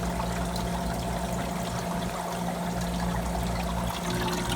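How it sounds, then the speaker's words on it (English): Water runs steadily into a Manitowoc ice machine (model QY0604A) during its fill cycle, a continuous trickling pour over a low mechanical hum, close and even throughout with no talk. "it's filling"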